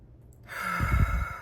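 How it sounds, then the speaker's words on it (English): A single demonstration of shallow breathing, a close, soft inhaled breath rising into a breathy exhale of about a second, with no talking. "And that is what we call shallow breathing."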